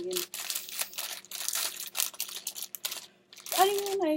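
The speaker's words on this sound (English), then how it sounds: "I'm gonna cut some onion." A knife cuts onion for a salad, giving a rapid series of close crisp chopping and crunching sounds in uneven bursts, followed by a voice speaking at the end.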